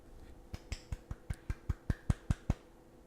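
Hand claps in the back part of a room: about eleven sharp, evenly spaced claps in a steady rhythm, each crisp and close, with no talking.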